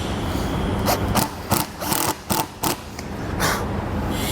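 A drill drives screws through the aluminum extrusion rail of a Solera slide-out awning on a 2021 Dutchmen Coleman Lantern RV. Several short, close bursts sound over a steady background hum, with no talk.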